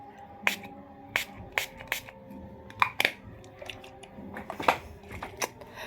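Storm Chaser perfume sprays from an atomizer in several short, sharp hisses spaced irregularly, close and crisp against a quiet room.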